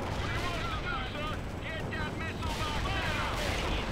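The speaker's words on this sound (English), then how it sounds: "Fire your bullets at all of the things." Gunfire and shelling from a battle in the real-time strategy game World in Conflict: Soviet Assault, a dense, continuous barrage of overlapping shots and blasts with a voice talking over it throughout.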